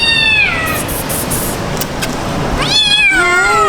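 A cat meows loudly and insistently near the microphone at an ancient Egyptian temple site. Two long, drawn-out meows come with a short pause between them, with no talking over them.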